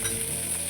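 Chopped onion pieces sizzle and fry in a hot pan, a close, steady, crackling hiss that continues without any talking.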